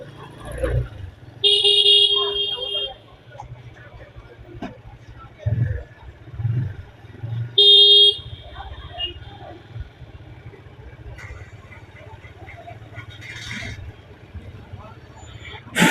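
Street traffic outside a busy live fish market, with two bright car horn blasts a few seconds apart cutting through a steady low engine rumble while people talk nearby.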